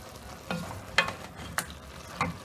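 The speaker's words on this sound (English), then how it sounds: "Okay, now let's stir it." Beef masala being stirred in a pot, with four separate scraping strokes of a spoon about half a second apart over a faint low bubbling simmer, close and fairly quiet, with no voices.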